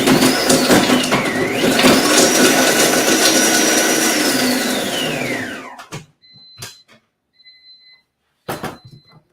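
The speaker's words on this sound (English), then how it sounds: "It's going to be a little bit loud because, this is a very high-powered blender." A high-powered blender grinds curry ingredients for a Kapitan chicken curry, a loud whirring roar whose pitch climbs, dips and holds, then winds down and stops, followed by a few quiet clicks and clatters.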